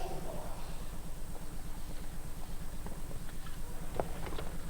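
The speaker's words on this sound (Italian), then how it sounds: "Ludo Philipp Paers per il Belgio in sella a Challenge Beginhacker, cavallo di 11 anni." An 11-year-old horse's hooves beat in an even rhythmic clip-clop on a show jumping course at a World Cup Grand Prix in 's-Hertogenbosch, moderately near under a constant arena hum, with a few sharp clicks late on.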